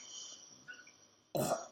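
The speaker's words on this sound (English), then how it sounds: "I got a burp" A single short, throaty burp erupts loud and close near the end, following a quiet stretch with faint background chirps.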